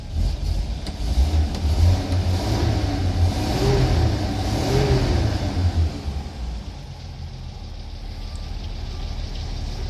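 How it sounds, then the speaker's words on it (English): A truck engine runs steadily at close range, its low rumble swelling briefly as if revved before settling back to an even idle. "turn the key, and it started up. A good idle, smooth idle."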